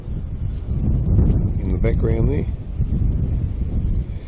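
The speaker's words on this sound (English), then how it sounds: "Actually, it's really windy here." Strong wind of about 20 kilometres per hour roars and buffets the microphone steadily near Melbourne while someone speaks briefly in the middle.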